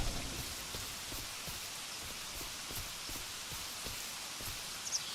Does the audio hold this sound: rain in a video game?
yes